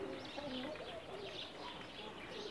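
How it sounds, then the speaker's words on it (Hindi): Firozpuri pigeons cooing, a soft low continuous murmur of several birds close by under steady background noise. "ये फ़िरोज़पुरी कबूतर हैं।"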